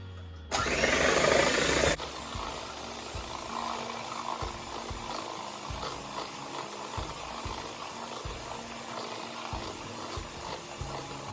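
Eggs being whisked with caster sugar for a chocolate roulade, opening with a loud burst of electric mixer whirring, then steady rhythmic beating and tapping against the bowl that repeats throughout, fairly close and without talk.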